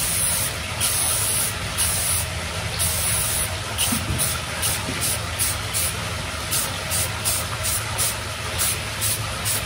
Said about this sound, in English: We're gonna go with purple spray paint and just do a light coat.